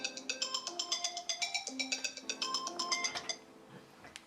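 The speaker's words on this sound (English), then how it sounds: "I've got to take a phone call." A phone ringtone plays a rapid repeating melodic chime, fairly close and clear, for about three seconds before fading out.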